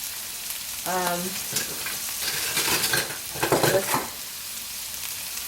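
Sliced mushrooms fry in a pan for a vegan omelette, giving a steady close sizzle with some stirring scrapes and a brief word spoken over it.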